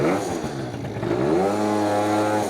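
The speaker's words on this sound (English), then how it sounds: "I think it's warm enough. It is revving clean." A freshly tuned, warmed-up Yamaha BWS 70 scooter with a Stage6 kit revs steadily up and down, a buzzy motor hum close by that rises in pitch and holds.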